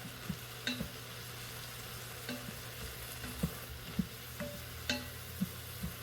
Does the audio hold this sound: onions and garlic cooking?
yes